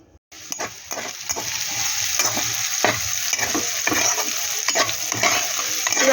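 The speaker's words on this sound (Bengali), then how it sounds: "এখন আগে আলুটা ভাজবো লবণ হলুদ মাখাই" Potato pieces coated in salt and turmeric fry in a pan, a dense sizzle under repeated close spatula scrapes and taps that keep an uneven rhythm throughout.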